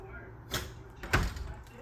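Front door of a house opened during a home walk-through, giving two soft thuds roughly half a second apart, close and moderately loud against a quiet room.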